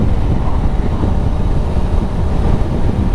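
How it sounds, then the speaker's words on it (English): Steady, loud low rumble of a Royal Enfield Super Meteor 650 cruiser engine at national speed limit, heavy wind buffeting mixed in throughout, no talk. "The engine so far feels reasonably flexible as well."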